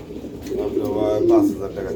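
Modena pigeons coo close by in a short, rising and falling phrase over a low background hum.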